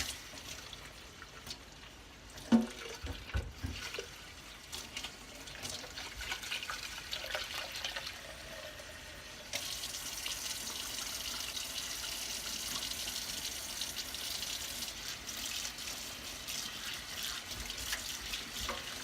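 Water from a tap running into a tie-dye bottle while dye is mixed, faint handling knocks first, then a steady, quiet stream of filling water in the second half.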